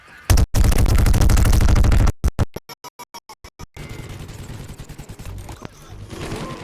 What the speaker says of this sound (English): set up a Gatling turret